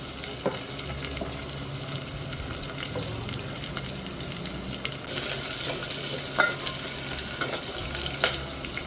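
Onion and green chillies fry in a pan, a steady close sizzle with occasional stirring scrapes and clatters, slightly louder in the second half.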